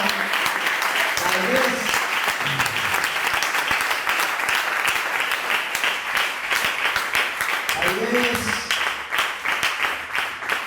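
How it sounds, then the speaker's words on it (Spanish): Applause at a church Bible study on the Book of Hebrews fills the room, a dense, steady roar of many hands clapping continuously, with brief spoken voices rising over it at moments. "Regalen un aplauso al Señor."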